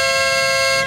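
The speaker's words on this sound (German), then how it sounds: "Hornig ist hingegangen und hat eine neue Hupe konstruiert, die so laut ist," Very loud aftermarket Hornig horn for a BMW motorcycle gives one sustained, piercing blast lasting about a second, close and steady before cutting off.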